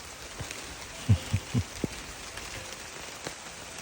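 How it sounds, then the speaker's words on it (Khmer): Rain falls in the mountains at Khnang Phsar in the dry season, a soft, steady hiss broken by a few low, dull thumps of drops near the middle. "បាទខ្នងផ្សារភ្លៀងហើយ"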